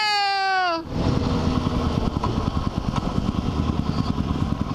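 A motorcycle engine running close by, a steady rumbling idle with a throbbing pulse that follows a brief high descending tone at the start.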